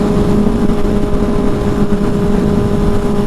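A 1975 Honda CB550 motorcycle cruises on an interstate at 80 mph and about 6000 RPM, its inline four-cylinder engine giving a loud, steady, humming drone with wind roar and no change in pitch.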